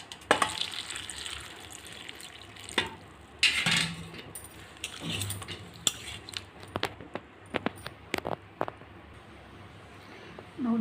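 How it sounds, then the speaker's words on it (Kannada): Halved fresh mushrooms are washed by hand under running water at a kitchen sink, a splashing trickle with scattered clinks and knocks of a bowl and utensils, close and moderately loud. "ಮಶ್ರೂಮ್ನ ಎರಡೆರಡು ಹೋಳಾಗಿ ಕಟ್ ಮಾಡಿದ್ದೀನಿ. ಫ್ರೆಶ್ ಆಗಿದೆ ಮಶ್ರೂಮು. ಇದನ್ನೀಗ ವಾಶ್ ಮಾಡ್ಕೊಳ್ಳಿ."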